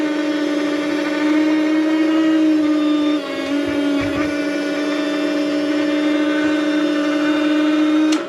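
A toy M1-A2 Abrams tank's small electric motor turns its turret a full 360 degrees, a loud, steady whining hum held throughout with a brief dip midway, close up.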